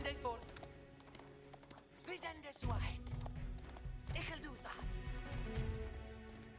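Horse hooves clip-clop in Age of Empires IV, medieval battle at Lincoln in 1141, with rhythmic hoof beats and a short whinny among game sounds, while someone talks over them.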